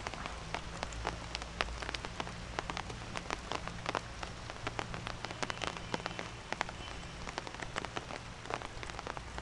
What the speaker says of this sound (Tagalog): nag-uumpisa na pong umulan ngayon